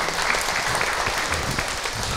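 An audience at an Islamic religious gathering claps together, a thick, even patter of many hands that holds steady and near throughout without a pause.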